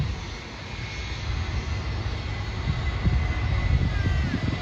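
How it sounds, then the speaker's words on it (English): An Airbus A320 airliner at Sydney airport gives a sustained, broad engine roar that builds slightly in loudness over a few seconds, heard from outdoors at a distance with steady background rumble. "No, that's an A320."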